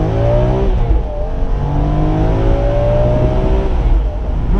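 A BMW M3 E46 cabriolet with a 343 hp inline-six and paddle-shift automatic accelerates hard, its loud engine note climbing steadily in pitch through the gears with no voices over it.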